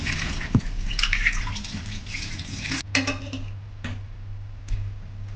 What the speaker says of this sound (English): Clean the chicken bones with water.